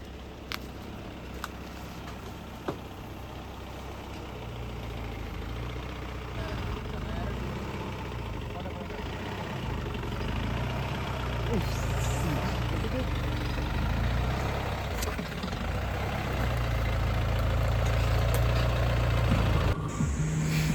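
An off-road vehicle engine labours steadily while crawling over rocks on a forest track, a continuous low rumble that builds slightly toward the end, with voices talking over it.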